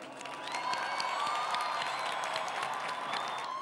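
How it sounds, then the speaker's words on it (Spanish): A large outdoor crowd at a World Youth Day gathering in Brazil gives loud, sustained applause, with cheering and whistles woven through a dense wash of clapping that stays steady throughout. "le enviamos un saludo y un fuerte aplauso"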